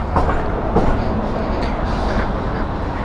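A metro train runs toward Gülbahar station, giving a steady, loud, close rolling rumble with faint rhythmic rail clatter throughout and no talking.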